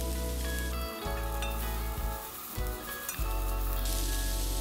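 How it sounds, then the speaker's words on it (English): Minced garlic sizzles and fries steadily in a pan with a continuous crackle, briefly interrupted by a few short stirring gaps, with no talking. "Add minced garlic."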